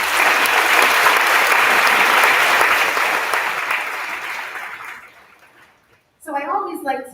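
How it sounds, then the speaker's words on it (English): Loud round of applause from an elementary school audience at a fifth grade promotion ceremony, fading out after about five seconds, followed by a brief silence and then a voice speaking. "Let's give them a round of applause."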